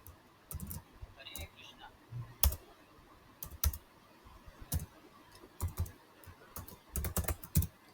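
A computer keyboard clicks as Java code is typed, giving irregular clusters of crisp keystrokes with short pauses between, close and moderately quiet.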